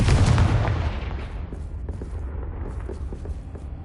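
Confringo blast spell cast in the video game Hogwarts Legacy: one heavy, loud explosion with a deep boom that fades into a rumbling tail lasting several seconds.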